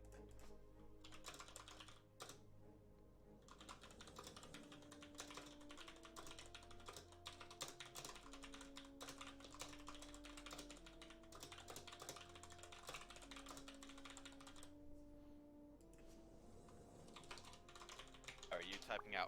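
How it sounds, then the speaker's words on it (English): Steady rapid clicking of a computer keyboard as someone types continuously, close and clear, with quiet background voices and music under it. "Are you typing out a whisper there"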